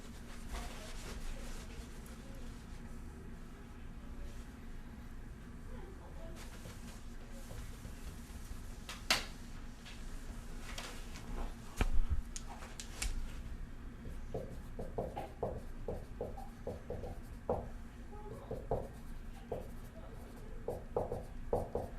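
An eraser rubs across a board during a calculus lecture, making soft, scratchy strokes in short bursts over a quiet room hum, growing busier and more rhythmic toward the end.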